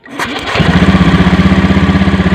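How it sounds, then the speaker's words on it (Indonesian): A Honda Beat FI scooter engine is cranked by its electric starter and catches at once, settling into a loud, close, steady pulsing idle for the rest of the clip. "Kemudian tak starter."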